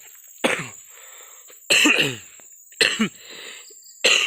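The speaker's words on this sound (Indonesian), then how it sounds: "aduh batuk, maaf guys ya" Four harsh coughs come one after another, close to the microphone, outdoors in an oil palm plantation, separated by short pauses with a faint high hum in the background.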